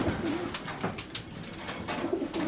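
Racing pigeons in breeder pens coo softly and repeatedly nearby, low throaty warbles coming in uneven pulses over a quiet background.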